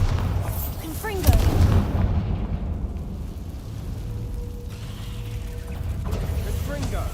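Repeated blasting spells fired in the Hogwarts Legacy video game, dense booming impacts and crackling bursts layered over a busy low rumble of combat effects, loud throughout with a speaking voice present.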